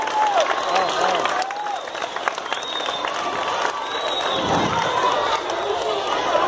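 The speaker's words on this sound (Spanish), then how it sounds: "Un aplauso." Schoolchildren at Escuela Tello clap and cheer together, their bright, excited voices and shouts mixing with the applause throughout.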